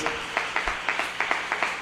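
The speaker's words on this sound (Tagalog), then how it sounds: "Pumalakpak po tayo na napakalakas mga minamahal." A church congregation claps together in a fast, steady rhythm, the beats evenly spaced and sustained across the whole moment, moderately loud and close.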